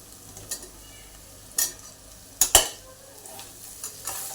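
Potatoes tossed into a pan of frying onion and ginger-garlic paste for aloo biryani, giving a low steady sizzle broken by a few sharp scraping clatters of the spoon against the pan.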